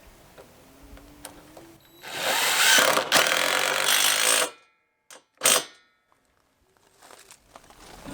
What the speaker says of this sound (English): using the lag screw and putting it in place